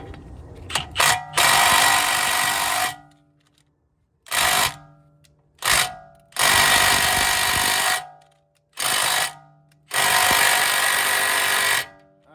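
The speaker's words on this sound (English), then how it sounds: "put your socket in there and do it with the long extended ratchet" A long extended ratchet and socket work on a wheel bolt of an Audi S6 (C7.5) in a series of loud, close bursts of rapid mechanical clicking and buzzing, each a second or more long, separated by silent pauses.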